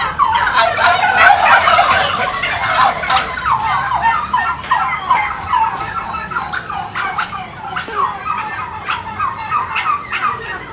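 Bourbon Red turkeys gobble in their pen, a loud, close, overlapping chorus of rapid rattling gobbles that goes on without a break and fades slightly toward the end.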